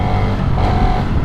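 Suzuki Raider motorcycle engine running loud and close with a steady buzzing drone, heard alone without talk.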